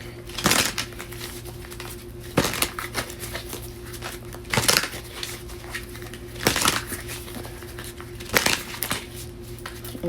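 Cards are shuffled in repeated bursts, crisp riffling snaps every couple of seconds over a steady low background hum, up close.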